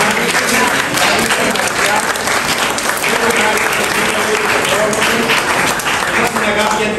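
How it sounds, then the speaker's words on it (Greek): An audience at an art workshop event in Kalamata gives teachers a sustained round of dense, loud applause, steady throughout, with voices audible among the clapping. "τους οποίους αξίζει ένα μεγάλο χειροκρότημα"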